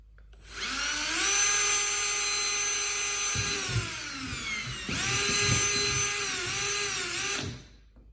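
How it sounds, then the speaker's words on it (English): A power drill whines loudly and steadily with rising and falling pitch, briefly easing off mid-way before spinning up again, close by with no talking, while rigging accessories onto a kayak. "before we start drilling like crazy"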